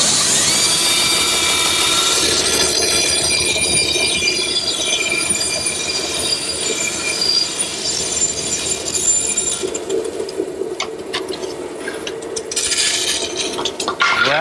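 A router in a shop-built station cuts a wood blank spun on a circle-cutting pin jig, producing a loud continuous high-pitched whine with grinding, scraping texture that roughens and varies toward the end.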